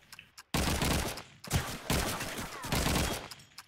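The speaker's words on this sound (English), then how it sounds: "Lackey though, taking down Irving with a headshot with the M1 Garand" Rapid bursts of M1 Garand rifle fire and other gunshots in a Call of Duty 2 multiplayer match on the Dawnville map, loud cracking volleys in several clusters with brief quiet gaps between them.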